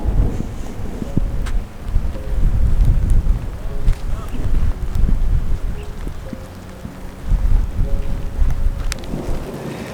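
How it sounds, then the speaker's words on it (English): Heavy rain pounds down with gusting wind buffeting the microphone and low rumbles of thunder, loud and close throughout. "There's a huge storm coming through."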